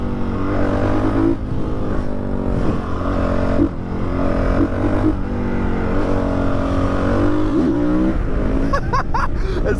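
Honda CRF 450 supermoto motorcycle engine running and revving up and down, loud and close, with rising and falling pitch sweeps and a sharper rev burst at the end.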